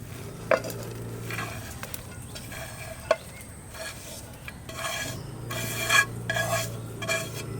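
Onions tipped into spiced mutton in a pan and stirred, a scraping, rasping stir with soft sizzling and occasional clinks of utensil on metal, steady and close.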